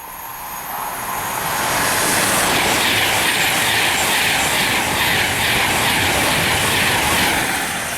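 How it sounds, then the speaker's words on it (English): The 13:35 Virgin train from Liverpool Lime Street to London Euston passes through Cheddington station, a loud rushing roar that swells in over the first seconds and then holds steady and close. "Now train to pass through is the 1335 Virgin train service to London Euston from Liverpool Lime Street"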